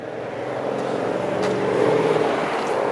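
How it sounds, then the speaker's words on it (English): A car with a loud muffler passes on a city street in Toronto's Leslieville neighbourhood, a steady rumbling exhaust drone that swells and peaks near the middle before easing slightly, heard continuously without talk. "Is this guy's muffler loud or what?"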